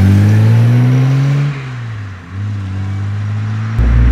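A 1962 Jaguar E-Type Series 1 3.8 roadster's engine pulls hard in a loud, close acceleration, its rising drone dipping briefly around a gear change before climbing again.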